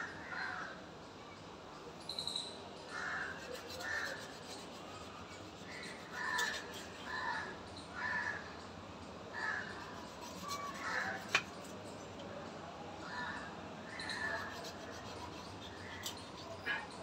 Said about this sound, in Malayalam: അപ്പൊ ഈ കാക്കകളൊക്കെ കരയുന്ന സൗണ്ടേ